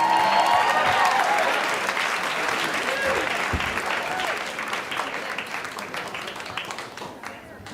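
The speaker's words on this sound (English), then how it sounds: "Keep your applause going now for Jeff Zimmerman." A comedy club audience claps for a comedian coming on stage, loud crowded applause with a few voices mixed in, gradually thinning out.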